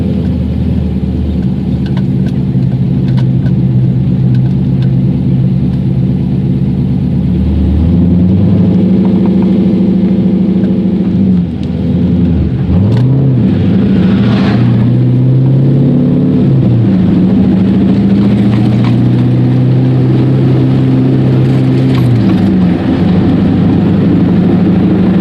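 An LS V8 swapped into a Porsche 944, not yet warmed up, rumbles along at low speed with a steady, loud, close engine drone that rises and falls gently as the throttle changes.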